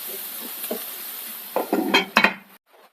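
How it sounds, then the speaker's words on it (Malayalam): Pot lid lifted and a spoon scraping and clinking through vegetable thoran in a pan, a few quiet metallic knocks early, then a louder cluster of stirring scrapes and clatters near the end. "ഇനി നമുക്കിതൊന്ന് തുറന്ന് ഇളക്കി കൊടുക്കാം"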